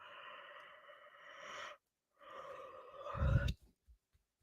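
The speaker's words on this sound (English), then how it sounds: "I'm still yawning for you." A long drawn-out yawn in two breathy stretches, ending in a deeper exhale and a few soft mouth sounds.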